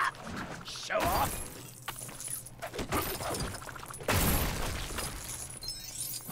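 Smashing Clayface in the Lego DC Super Villains video game, heard as loud crunchy breaking and shattering bursts, a big crash near the start and another around the four-second mark, over continuous game music and effects.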